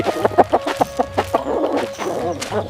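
A chicken clucks in a quick series of short, sharp, close-up clucks, the bursts bunched rapidly at first and then loosening into a more drawn-out, uneven call.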